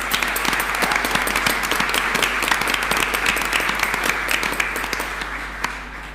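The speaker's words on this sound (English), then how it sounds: "Can we please have a round of applause?" An audience at a school's 125th anniversary event gives steady, full-room applause, a continuous dense patter of many hands clapping that holds for over six seconds with no talk.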